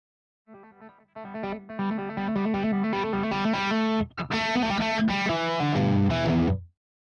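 An Artist Stealth LP6 electric guitar on its rear pickup strums a run of chords that swell from quiet to full as the volume knob comes up, with a brief break before a louder, brighter passage that ends in a low ringing chord.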